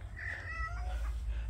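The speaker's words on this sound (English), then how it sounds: "That's my cat, Smithers." A domestic cat meows indoors among houseplants, one drawn-out, rising and falling call lasting over a second, close and clear above a steady low hum.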